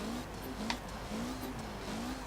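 Mitsubishi car in Forza Horizon 4 droning at a low pitch that rises and falls in repeated pulls, with a sharp turbo flutter or blow-off burst near the start, heard quietly without talk.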